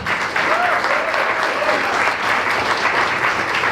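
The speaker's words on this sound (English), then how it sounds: "Another round of applause. Come on, the big one." A round of applause from attendees at a business breakfast event, steady and fairly loud for the whole stretch, with a voice faintly heard over the clapping early on.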